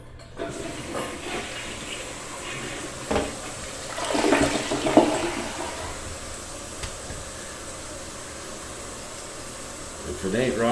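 A repaired Coastal toilet flushes with a rushing swirl of water that builds to a peak and settles into a steady hissing refill, with a person speaking over it.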